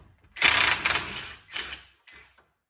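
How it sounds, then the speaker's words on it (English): A ratchet fitted with a 17mm socket works to loosen a bolt, giving three short rasping bursts of clicking, the first and longest about a second, each quicker and fainter than the last, close up with no talking. "you would use the 17mm socket to get this bolt off"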